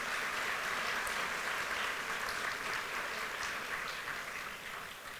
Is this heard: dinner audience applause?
yes